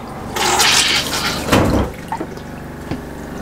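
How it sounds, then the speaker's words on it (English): A Dometic RV toilet with a faulty valve flushes with a loud rushing surge, then water keeps trickling and dripping into the bowl after the flush, close by and with no one talking. "you'll see that the water keeps rolling out and it continuously fills up the toilet."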